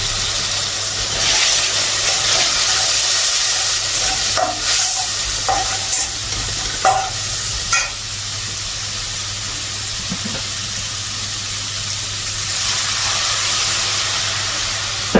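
Singhi fish fry in a pan with a steady, loud sizzle and hiss, broken by repeated scraping strokes of a spatula stirring the fish, while a low hum runs underneath and nobody speaks.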